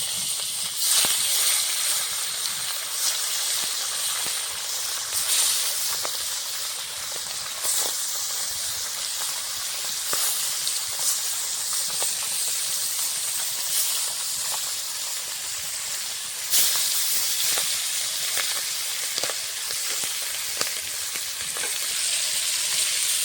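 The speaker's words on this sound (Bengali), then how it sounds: "মাছ ভাজার জন্য কড়াইতে দিয়েছি সরষের তেল, গরম হয়ে গেছে। মাছগুলো ভেজে নেব।" Fish sizzling in hot mustard oil in a wok, a continuous loud hiss and crackle with occasional sharper spits and surges, no voices.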